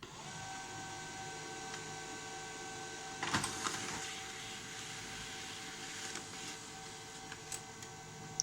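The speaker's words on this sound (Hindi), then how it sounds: "तो ये आप देख रहे हैं कि हमारा test page HP 12A printer से निकल आया है।" An HP LaserJet Pro M12a laser printer runs a test page with a steady mechanical whir and motor hum, a brief louder burst of rattling and feed noise partway through, then a few small clicks near the end.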